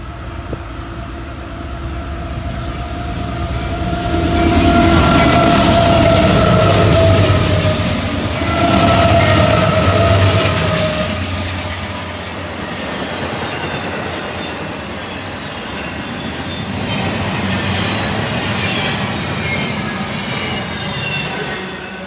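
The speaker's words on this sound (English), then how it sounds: "a normal Norfolk Southern Intermodal with 2 AC-44s" Norfolk Southern intermodal freight train hauled by two AC-44 locomotives rolling past outdoors, a loud sustained rumble of wheels and cars with a steady horn-like tone early on, swelling and easing in waves for over twenty seconds.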